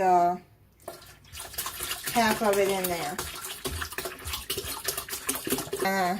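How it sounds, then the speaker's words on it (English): Strawberries and their liquid poured undrained into a lemon strawberry punch, a splashing, gurgling pour running steadily under a person talking. "you pour the strawberries in there. Don't drain it."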